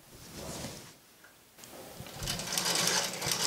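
An antique Augustin Avrial hand-crank sewing machine, clamped to a table end, stitches in two close bursts of rapid mechanical clatter separated by a brief pause, the second run louder and busier.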